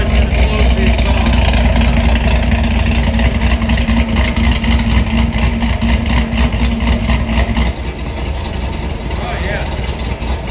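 Stage 3 modified Camaro SS 1LE idling with its exhaust valves closed, a loud, steady low rumble with a drone that fills the clip before easing slightly softer near the end; voices seem to murmur faintly beneath it.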